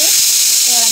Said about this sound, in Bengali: আমাদের কুকারে সেদ্ধ হচ্ছে